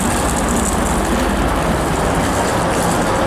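Two HST high-speed diesel trains, one LNER and one CrossCountry, stand at a station platform, giving off a loud, steady low engine rumble and broadband mechanical noise with no voices.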